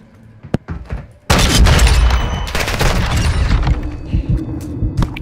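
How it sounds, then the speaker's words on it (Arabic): Sudden burst of heavy gunfire and explosions in Modern Warfare 2 Search and Destroy, loud rapid shots with booming impacts after a few scattered single shots, rumbling on in dense bursts. "ثلاث طلقات يمكن"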